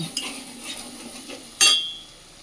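Spices in oil get stirred in a pan for a chamagadda curry, giving soft scraping with a faint sizzle and one sharp metallic clink of the spoon against the pan.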